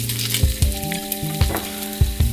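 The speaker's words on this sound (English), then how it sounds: "Okay, so I just going to pan fry all my slices." Bread slices pan frying, giving a continuous sizzle with a steady low hum beneath and a few soft thuds and scrapes from handling, close up and without speech.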